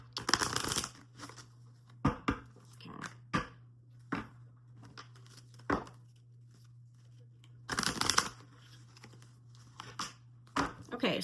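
Oracle cards and yes-or-no cards being mixed by hand, with bursts of papery riffling and shuffling separated by sharp taps and pauses, close up, over a steady low hum.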